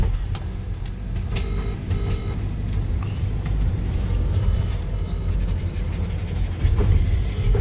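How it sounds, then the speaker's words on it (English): Interior of a car-carrying train while it rolls along, a steady low rumble with scattered clicks and clanks from the rails and a heavier thump near the end, with no one talking. "We're on the train."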